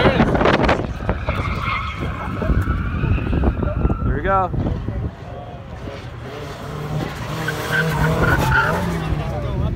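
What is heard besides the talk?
car drifting with tire squeal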